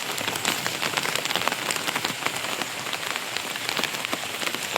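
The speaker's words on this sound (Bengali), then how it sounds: "এই যে টিপটিপ করে বৃষ্টি পড়ছে, কচুর পাতা করে ফুট করে সরে যাচ্ছে" Light rain patters steadily on taro leaves, a dense, even hiss of fine drops with no voices.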